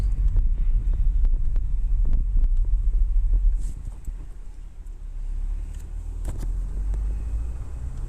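A car creeping around a parking lot, heard from inside the cabin as a low steady engine and road rumble with soft wind buffeting and a few faint clicks and thumps.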